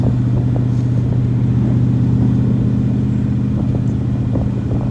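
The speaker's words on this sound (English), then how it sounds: "Been a nice ride in the Corvette." A restored 1974 C3 Corvette cruises along the road, its engine a steady low rumble with constant road and cabin noise throughout, no voices.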